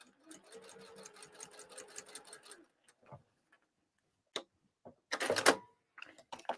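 A sewing machine stitches a lining with a rapid ticking run that stops after a few seconds, then gives way to quiet handling clicks and a brief burst of rustling fabric.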